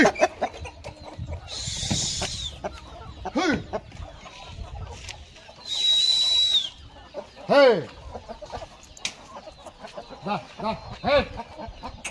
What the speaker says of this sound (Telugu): మా మామ అయితే ఇంకా కోళ్ళు లోపల తోలేస్తున్నాడు